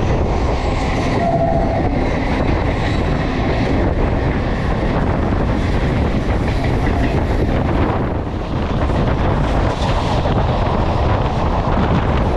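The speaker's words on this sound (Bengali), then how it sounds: "ট্রেন আমাদের এখন এসে পৌঁছেছে রিশরাতে" An Arambagh local train runs through Hooghly district near Rishra, heard from on board as a loud, steady rumble of wheels and carriages with rhythmic clatter and wind buffeting the microphone.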